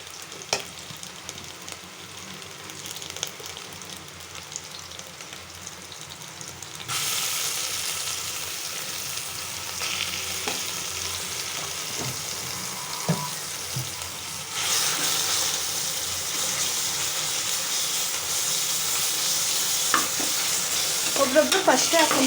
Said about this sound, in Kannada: ಈರುಳ್ಳಿ, ಮೆಣಸಿನ್ಕಾಯಿ ಇಷ್ಟು ಹಾಕಿ ಮಿಕ್ಸ್ ಮಾಡ್ಕೊಳ್ಳೋದು.